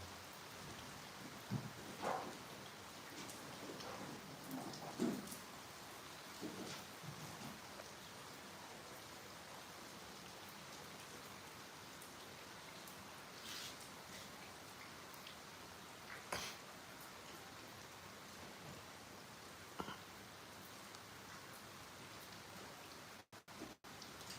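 Steady rain falls outdoors under a cloudy sky, a dense even patter with a few sharper drips and brief knocks rising above it, continuous from start to finish with no one speaking.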